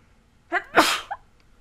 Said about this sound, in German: Da musste ich kurz niesen.